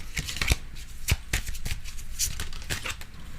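Tarot cards are shuffled by hand for a reading, giving rapid papery riffles and crisp flicks and snaps close up, with no one speaking.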